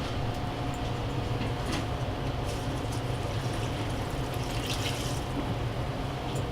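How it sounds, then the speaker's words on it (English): Water pours steadily from a hand-held source onto potted plants, a continuous close splashing rush with a few brighter drips and trickles and no talk. "Now I'm going to do a little hand watering, or small pot watering."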